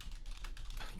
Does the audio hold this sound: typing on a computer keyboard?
yes